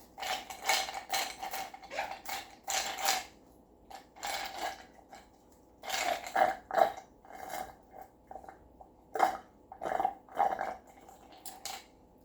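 A pet dog growls in short rumbling bursts, repeated irregularly over several seconds, close and fairly quiet, with no voices.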